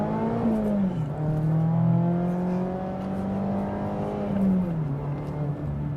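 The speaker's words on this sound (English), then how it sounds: "the way it revs out" Mazda ND3 Miata engine revving out under acceleration, a smooth rising tone that holds high, dips as it shifts, climbs again, then drops, close and steady with no talking.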